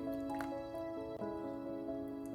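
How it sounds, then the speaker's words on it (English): Buttermilk mixture poured over raw chicken pieces for buttermilk fried chicken, a steady wet splashing and squishing pour with soft drips, close and continuous, over a faint tonal hum. "So you just pour it over, and I have 2 pints here, so just pour this all the way over"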